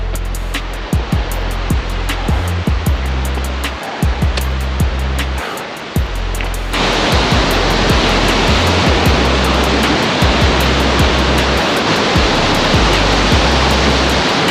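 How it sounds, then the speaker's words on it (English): A small babbling brook flows beside a rocky hiking trail on the way to Deeks Lake, a steady broadband rush of water that grows louder and closer midway, with scattered clicks and thumps from movement nearby. "Just a little babbling brook"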